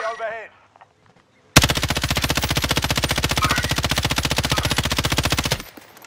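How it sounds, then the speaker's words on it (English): A long, rapid burst of automatic gunfire in Call of Duty rattles out loud and close in an even rhythm for about four seconds, then cuts off. Game sounds and a brief voice come just before it. "Someone else is shooting."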